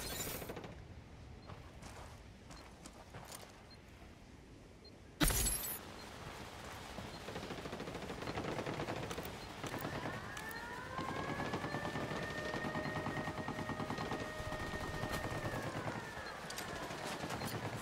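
Gunfire in Ghost Recon Wildlands breaks out after a quiet stretch, with a sudden sharp burst followed by sustained shooting, whining tones and a dense, steady battle din.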